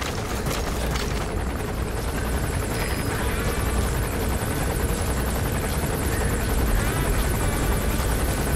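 Helicopter in the video game Metal Gear Solid V, a loud steady rotor drone filling the whole stretch without a break, with faint game noises layered over it.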